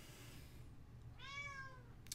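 A pet cat lets out a single quiet, drawn-out angry meow that rises and then falls, heard indoors over a low background hum.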